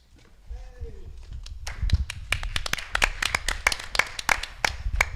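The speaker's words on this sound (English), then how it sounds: "I want to give a round of applause to all of our candidates today" Sparse applause for city council candidates at a West Hollywood candidates forum: scattered individual hand claps build into uneven, fairly quiet clapping from a small audience indoors.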